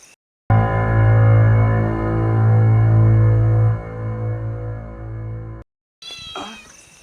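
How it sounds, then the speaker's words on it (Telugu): A cat meowing at night near a cemetery, sounding up close in one long, loud, drawn-out wail, then a second shorter cry after a brief silence. "ఏం కాదు పిల్లి అది"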